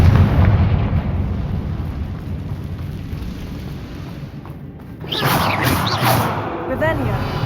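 A Confringo spell explosion in Hogwarts Legacy arrives as a sudden loud burst partway through, over a rumbling, windy background, followed by crackling debris, with a voice speaking nearby.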